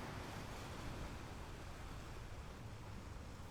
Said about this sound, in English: The waves filled the silence.